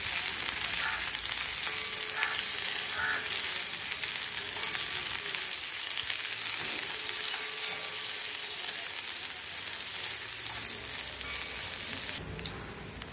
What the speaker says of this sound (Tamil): இந்த எண்ணெயிலேயே நல்லா வதக்கணும்